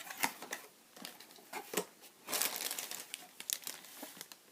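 Packaging inside a fan's parcel box crinkles and rustles as it is opened, a run of close, irregular papery crackles and crumples with short gaps.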